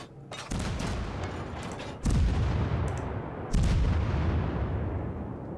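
Naval guns of a Mogami Japanese cruiser in World of Warships fire three heavy booming salvos, each a loud broadband blast with a long rumbling tail, spaced about one and a half seconds apart, with no talk.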